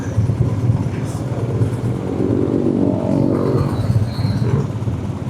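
Motorcycles ride in a group with Manny Pacquiao, the engines droning steadily and swelling as they accelerate, with a continuous low rumble throughout.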